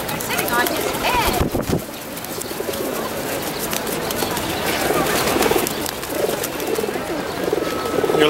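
Pigeons sitting on a man's head coo and flutter nearby, heard under people talking, with a thump near the start and soft bird sounds throughout.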